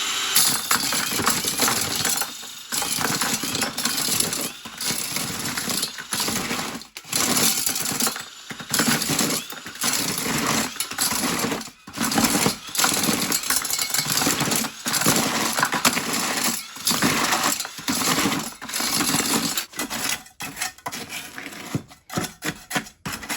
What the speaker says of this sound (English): we're going to use our egg beater to continue to mix it up some more